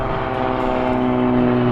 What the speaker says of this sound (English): here comes a plane right over top of us